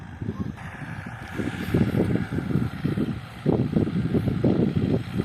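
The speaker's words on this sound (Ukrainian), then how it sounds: "наш кентавр працює. Сила чувствується." A Kentavr tractor works a milled potato field in the Lviv region during spring planting. Its engine gives a pulsing low rumble close by, with wind noise over it and no speech.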